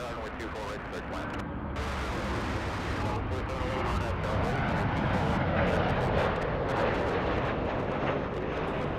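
An Emirates airliner in a Grand Slam tennis livery lands at LAX: a loud, broad jet engine roar that swells and holds steady for nine seconds, with voices talking underneath.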